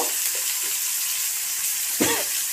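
Five-spice tempering and chopped onion fry in plenty of oil in a pan while being stirred, a continuous close sizzle with a brief louder scrape of the spoon near the end.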